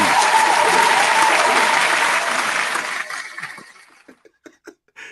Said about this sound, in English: round of applause for the STB chat